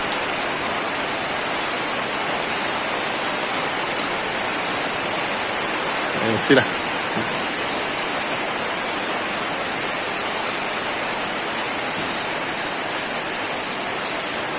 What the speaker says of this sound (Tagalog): lumalakas sa ating ulan